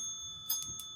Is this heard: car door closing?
no